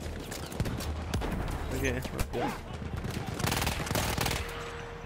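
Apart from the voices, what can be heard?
gunfire in video game Battlefield 1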